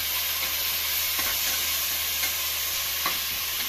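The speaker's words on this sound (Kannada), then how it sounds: "ಅದು ಸಾಫ್ಟ್ ಆಗೋವರೆಗೂ ಫ್ರೈ ಮಾಡಬೇಕು" Sliced tomatoes fry in a hot pan, giving a steady close sizzle with faint scrapes of stirring at intervals and no voices.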